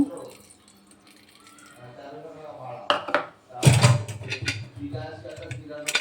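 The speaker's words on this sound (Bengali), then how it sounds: "সামান্য একটু পানি দিয়ে দেবো।" Water poured into a cooking pot of beef with fried potatoes and crushed garam masala, a short splashing burst in the middle amid clattering kitchen sounds, with a voice speaking earlier.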